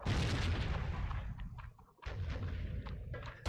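Gunfire rings out in a PS2 war video game, heavy booming shots rolling together, easing into a brief lull, then further sharp bursts follow, with no talking over them.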